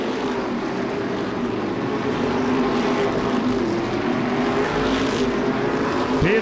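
Modified race cars circle the Seekonk track, a continuous droning engine roar with overlapping cars at a steady mid distance, rising slightly as they pass.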